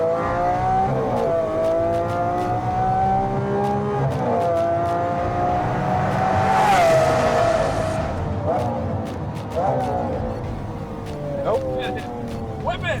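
A limited edition sports car driven hard through corners, engine revving and downshifting with tire squeal, loud and close with steady engine drone and pitch changes throughout.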